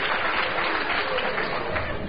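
Audience applause at a theater Q&A for a TV series cast, a continuous wash of many clapping hands filling the room without talk on top.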